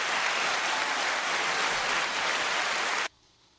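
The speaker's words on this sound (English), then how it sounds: "It was the clapping." Applause from a live studio audience fills the space as a broadcast begins, a steady dense wash of many hands clapping at close range, then cutting off abruptly into quiet.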